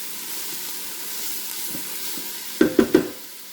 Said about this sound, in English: I'm going to add the garlic.